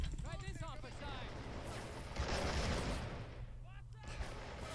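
A heavy, booming explosion erupts mid-clip amid action in Men of War: Assault Squad 2, with someone talking over the noise before and after.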